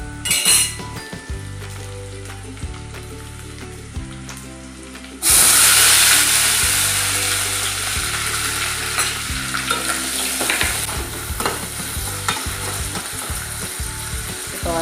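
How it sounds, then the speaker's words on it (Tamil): Onions sautéing in hot oil with fennel seeds and ginger leaf for a dried fish curry, a loud steady sizzle that starts abruptly with a spoon stirring and scraping the pan, clinks scattered throughout. "வெங்காயம் வதங்கிக்கிது. இன்னும் கொஞ்சம் வதங்கட்டும்."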